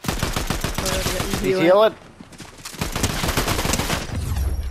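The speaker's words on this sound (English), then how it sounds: "I'm hitting him, but it was a shotgun from range" Shotgun blasts boom rapidly in a fast-paced action shooter video game, a dense burst of repeated shots up close, a short pause, then more gunfire under a brief spoken line.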